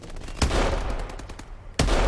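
Two sharp, loud sniper rifle cracks from the video game Advanced Warfare, one near the start and another toward the end, each followed by a booming tail over steady game background noise.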